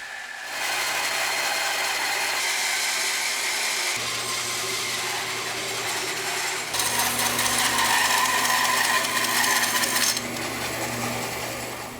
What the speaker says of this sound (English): now it's time to cut the falcon pattern out of a separate block of wood.